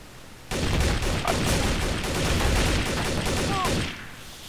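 Rapid gunfire bursts out suddenly in Trouble in Terrorist Town, a dense, loud fusillade of overlapping shots lasting several seconds before cutting off, with a brief voice heard amid the shooting.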